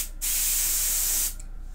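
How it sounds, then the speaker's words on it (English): Spray can of matte varnish coating a painted Warhammer 40K orc Blitza Bommer miniature, a single close hissing burst lasting about a second, with quiet pauses before and after. "we're going to stick some matte varnish down"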